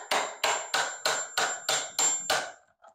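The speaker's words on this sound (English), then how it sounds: "I have learned to pause and not talk when I'm hammering" Eight sharp hammer blows in a steady, even rhythm land close and loud during restoration work on a parlor cornice, with no talking. A short faint knock follows them.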